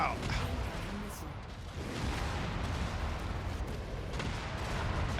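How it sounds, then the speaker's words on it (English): Missile explosions rumble and boom almost continuously in a BattleTech mech combat video game, as heavy broadband blasts wash over one another under a voice. "Incoming missile."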